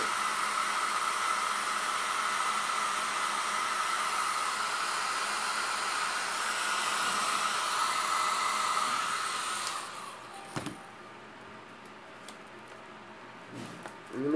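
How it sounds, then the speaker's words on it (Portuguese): A toy Barbie hair dryer blows a steady, loud whirring hiss while drying paint, running for about ten seconds before switching off, leaving quiet handling noises afterward. "esse secador da Barbie é uma loucura"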